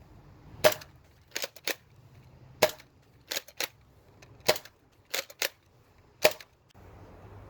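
An Out of Darts foam dart blaster firing Proton rounds, sharp sudden pops heard up close, often in quick pairs with short pauses between shots.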